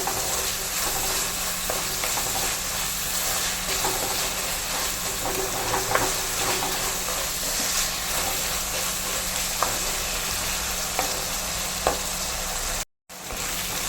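Onion, tomato and green chilli sautéing in a pan, a continuous loud sizzle and hiss with occasional stirring scrapes, close and steady with a brief dropout near the end.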